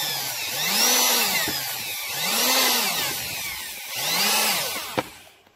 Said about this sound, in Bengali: চলুন আমরা অন করি এবং ড্রিল মেশিনটি চালিয়ে দেখাই।